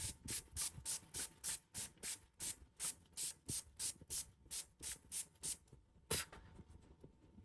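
Setting spray misted onto a face over freshly applied foundation, a rapid run of about fifteen short, close hissing pumps in steady rhythm, then a pause and one final spritz before quiet.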